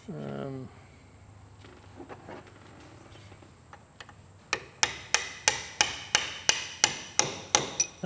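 A front wheel bearing is tapped into the hub of a Massey Ferguson 20 tractor, with about ten sharp, evenly spaced metallic knocks in a quick row after some quieter handling noises and a brief voice.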